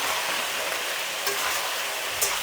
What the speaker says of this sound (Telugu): ఇప్పుడు దీంతో పసుపు కొద్దిగా పసుపు వేసుకొని కలబెట్టేద్దాం